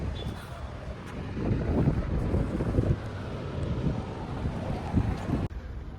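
Wind blowing outdoors at a metro link bus stop, a steady rumbling buffet of gusts across the microphone that rises and falls over several seconds and cuts off abruptly near the end.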